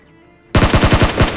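Automatic gunfire in PUBG Mobile: a loud, close burst of about seven rapid shots right after near silence.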